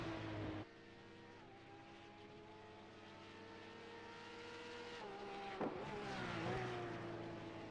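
A Porsche Carrera Cup race car at Sonoma runs at steady high revs, then drops through two quick downshifts with sharp blips near the end, heard from the onboard car and fairly quiet.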